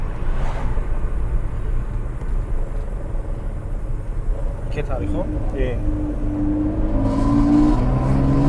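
A Mercedes W124 E320 coupe engine with no resonator idles with a steady low rumble, then revs up near the end with rising tones, while people talk over it.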